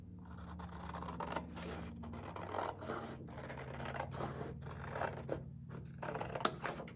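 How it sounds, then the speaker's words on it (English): Scissors cutting out paper for a craft box puppet, a string of soft scratchy snips and rustles repeating at an uneven pace, close and quiet over a steady low hum. "And then I'm just going to cut it out."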